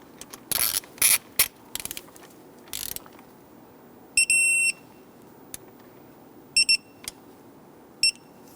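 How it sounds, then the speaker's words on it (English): A hand ratchet torques bolts on the coolant crossover pipe of a 2011–2021 Jeep Grand Cherokee, giving short bursts of sharp clicking near the microphone, several quick runs separated by pauses and single knocks. "I want to go ahead and torque all these bolts down to 8 foot-pounds"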